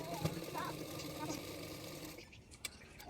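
A sewing machine stitches a folded kurti sleeve, running steadily and close for about two seconds before stopping, with a soft voice speaking over it.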